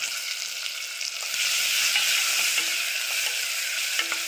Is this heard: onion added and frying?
yes